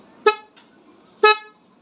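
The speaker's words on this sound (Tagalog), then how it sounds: "Loud horn." Two loud, sharp blasts from a dual-contact stock horn on a Honda Beat motorcycle, a short one and then a longer one, with a faint beep between them.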